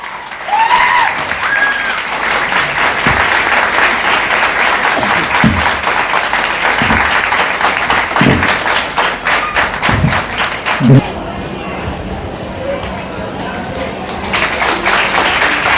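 An audience at a live community event claps steadily for a long stretch, a dense, loud wash of hands, with a few heavier thumps along the way and the applause thinning toward the end.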